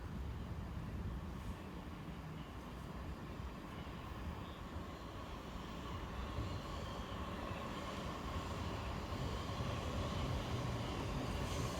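Two coupled South Western Railway Class 458 electric units running into a station on the London Waterloo to Reading line, a steady, broad rumble and rail roar that holds at an even level throughout, with no voices.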